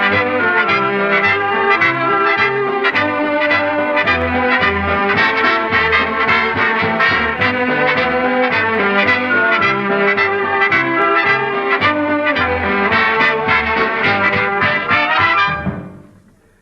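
A full orchestra plays a lively passage with strings, woodwinds and brass blended evenly, loud and steady, then fading out at the end.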